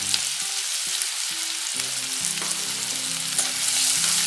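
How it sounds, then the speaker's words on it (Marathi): Finely chopped onion and green chili fry in a hot pan with a loud, constant sizzle and hiss. Soft clinks and scrapes sound underneath, and no one speaks. "यातच आपण कांदा घालणार आहोत बारीक चिरलेला आणि कांद्यासोबतच मी हिरवी मिरची घालणार आहे"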